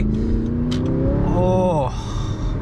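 An Audi R8 with a gated manual gearbox revs hard while driving on a winter road, the engine note climbing steadily and loudly in a close, continuous roar.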